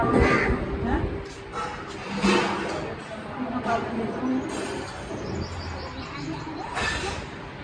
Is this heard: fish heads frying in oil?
no